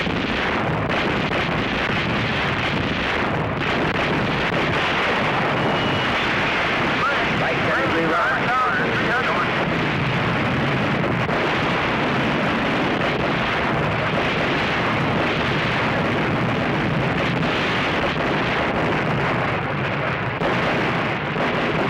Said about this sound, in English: amidst deafening din of battle